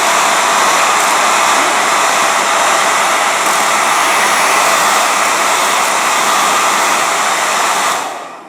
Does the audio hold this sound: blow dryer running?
yes